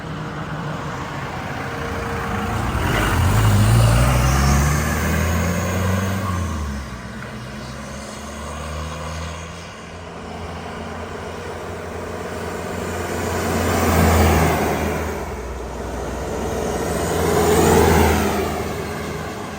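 A 1989 Land Rover Defender 90 with the 2.5L TDI diesel drives past outdoors several times, its engine swelling in loudness as it nears and fading as it leaves, with no talk over it.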